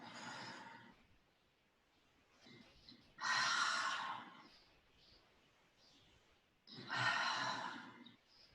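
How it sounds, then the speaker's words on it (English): Breaths exhaled during a mat pilates exercise, three soft airy outbreaths spaced a few seconds apart, quiet and close with faint breathing in between. "Exhale, rotate. Breathe out."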